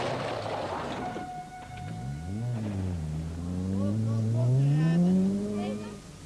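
Rally car spinning at the 1987 Haspengouw Rally in Belgium, its engine rising and falling in pitch through the spin and then revving hard and loud, with faint tyre noise underneath.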